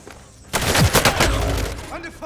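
Gunfire in the battle royale game Warzone erupts suddenly after a quiet start, a burst of close, loud shots and impacts that trail off, with a player's voice talking over parts of it.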